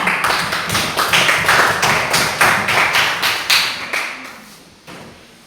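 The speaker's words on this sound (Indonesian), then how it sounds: "Tepuk tangan untuk kelompok 2." Classroom applause for a student group, a steady run of loud, crisp claps from a class that keeps an even beat and then fades to a few last claps.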